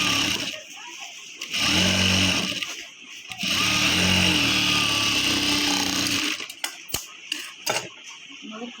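Sewing machine stitching a blouse, joining a main piece and lining, runs in two sustained whirring bursts with a steady mechanical hum, then stops into a few short clicks and knocks, with a voice talking around it.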